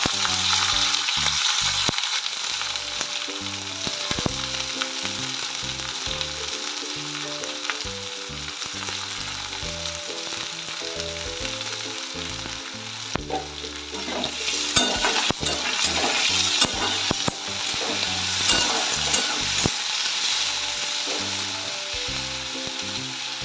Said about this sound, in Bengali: তারপর আমি ছেড়ে দিচ্ছি এই পেঁয়াজ কুচিগুলো।